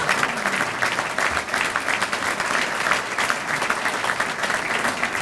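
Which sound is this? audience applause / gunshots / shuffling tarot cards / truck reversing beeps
audience applause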